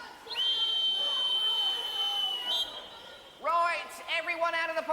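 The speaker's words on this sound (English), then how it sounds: "Whistle." A long, steady whistle blast rings out at an indoor swimming pool, followed by a second shorter burst mixed with an overlapping voice.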